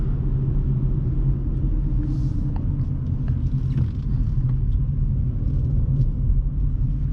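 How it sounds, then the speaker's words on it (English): Loud, steady low road rumble fills the cabin of a 2018 Buick Encore driving at night, a constant dense drone with no talk over it. "the road is very loud."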